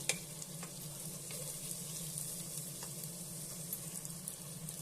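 Avare beans frying in oil in a pan for avarekalu pulao: a steady, close crackling sizzle with fine popping throughout, continuous and even, with a few faint clinks and no talk.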